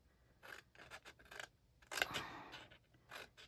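Scissors make an angled cut in paper for a Halloween treat box, producing a series of faint, close snips and crisp slicing strokes at an uneven pace.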